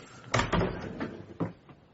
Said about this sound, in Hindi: दरवाजा बंद करो।